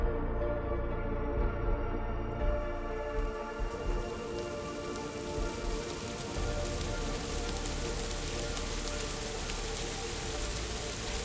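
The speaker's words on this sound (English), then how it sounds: "exposed to the unforgiving rain that poured relentlessly over the gloomy city" Heavy, steady rain pours down over a city in a dense, continuous hiss with a low rumble underneath, loud and close throughout.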